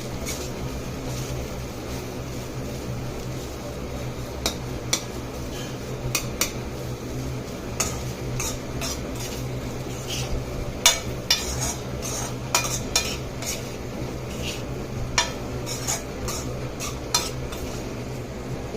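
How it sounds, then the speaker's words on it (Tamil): A metal spoon stirs and scrapes chickpea sundal with grated coconut in a kadai, giving repeated light clinks and scrapes over a steady low background hum, with no talk. "ஸ்லோவில் வச்சு கலருங்க ஃப்ரெண்ட்ஸ்."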